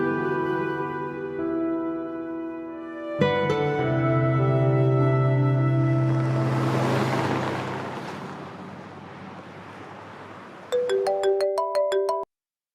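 A telephone rings out while a call is placed, a loud, steady electronic ringtone with sustained tones that shift midway, then a quick burst of short repeated beeps near the end.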